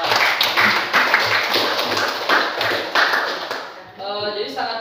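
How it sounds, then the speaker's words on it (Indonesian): Classroom group applause from teachers and students, sustained clapping at close range under a steady broadband hiss, fading out near the end. "Oke, kita aplaus untuk kita semua"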